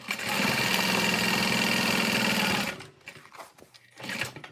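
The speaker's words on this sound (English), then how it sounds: "Top stitch the sides." A sewing machine topstitching the sides of a bag, its needle running in a fast, steady, close mechanical whir for nearly three seconds before stopping, followed by faint handling noises.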